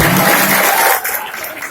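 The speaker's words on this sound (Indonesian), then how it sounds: "Tepuk tangan dari semua." Students at an Islamic boarding school give a burst of applause, strong at first and then thinning out after about a second.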